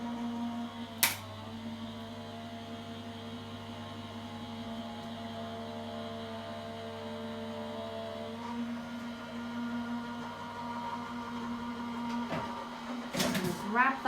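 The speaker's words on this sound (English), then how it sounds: "Hold this in place while we run it through the die cutting machine." A Gemini die cutting machine runs a card through with a steady mechanical motor drone and whirr for several seconds, ending in clicks and a louder clatter, with a voice talking over it.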